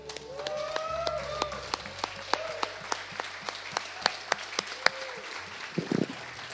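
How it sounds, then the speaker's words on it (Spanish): Church congregation applauding in a worship service, with sparse, sharp individual claps ringing out at an irregular rhythm over a murmur of voices and sustained background tones. "Dale un aplauso al Señor."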